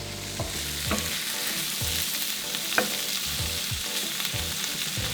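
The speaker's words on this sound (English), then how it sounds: "I really want the green beans to cook down in the pan in those bits from the salmon" Green beans frying in a pan among leftover salmon bits, a constant close sizzle with several sharp spatula knocks and stirring scrapes, no voices.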